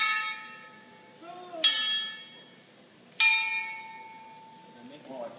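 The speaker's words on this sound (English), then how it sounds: "This stuff rings, it's like a wind chime." Metal tubing struck near a chop saw rings out like a wind chime, two sharp metallic clangs each decaying into a sustained resonant tone, clear and close.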